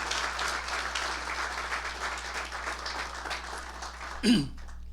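Sustained congregational applause at a church service rolls on for several seconds with faint voices mixed in, then breaks off as a single loud knock or thump lands near the end.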